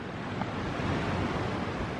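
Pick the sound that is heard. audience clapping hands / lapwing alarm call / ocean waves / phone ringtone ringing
ocean waves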